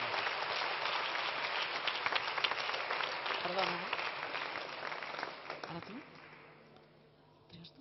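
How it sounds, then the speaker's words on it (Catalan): An audience claps for a finalist at the Cuiner de l'any cooking award during a gastronomic forum in Girona, sustained applause with voices mixed in, tapering off toward the end. "Sergi Roca, un aplaudiment per ell"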